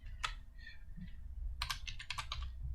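Light, quick tapping on a computer keyboard, a short burst of keystrokes followed by a brief pause and then a faster run of clicks, quiet and close.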